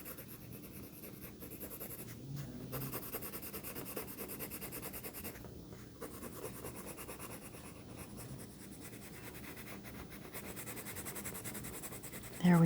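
Colored pencil shading gray over beige on paper, a quiet continuous scratchy rubbing with short pauses as the pencil is turned, close and soft with no talking.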